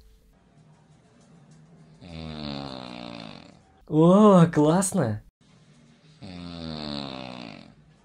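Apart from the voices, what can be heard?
woman snoring loudly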